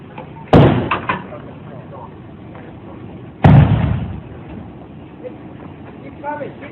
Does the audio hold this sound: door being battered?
yes